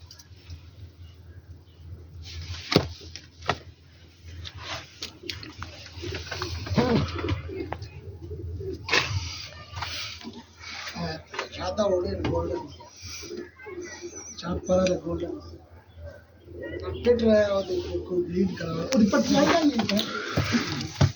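Pigeons settling in for the evening in Rawalpindi, with soft, low cooing and some rustling close by while people talk over much of it.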